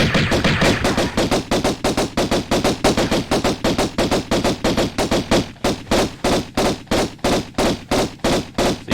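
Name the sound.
gunfire at a cowboy enemy, from video game Tomb Raider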